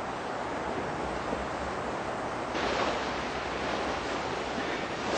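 Sea waves washing against the rocky coast of Jeju Island, a steady roaring wash of surf with a slight swell in loudness midway, heard alone with some wind.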